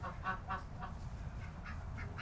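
Ducks in nesting boxes give a series of soft quacks, several short calls in an uneven rhythm, faint and somewhat distant over a low background rumble, with no voices.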